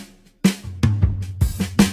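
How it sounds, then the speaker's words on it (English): Drum fill from the Cymatics sample pack, used in a hip-hop beat: a quick run of punchy hits with deep booming low-end under crisp snare cracks, loud and close, with no talking. "So going through Cymatics sounds again, I found this drum fill."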